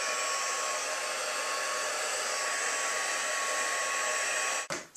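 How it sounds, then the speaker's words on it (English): A heat gun blows a steady, loud whooshing roar while heat embossing a stamped card, holding evenly for several seconds before it is switched off with a brief thump at the end. "So I'm going to bring in my heat gun and just heat emboss it."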